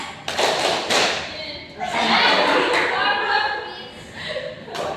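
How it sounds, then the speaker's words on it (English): A classroom of students performs a rhythmic focus clap, sharp claps and thuds in short bursts mixed with chanting voices and a little laughter, fairly close and loud. "let's do focus clap."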